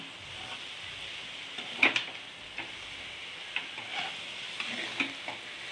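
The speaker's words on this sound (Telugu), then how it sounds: "ఇప్పుడు మనం పల్లి అని కొబ్బరి వేసి కలిపుకున్నాం కదండి ఇంకంతే ఒక టూ మినిట్స్ అలా కలిదిప్పుకోవాలి" Peanuts and grated coconut, cooked with broad beans, sizzle steadily in a pan while a spoon scrapes and stirs, giving a few sharper clinks over the gentle frying hiss.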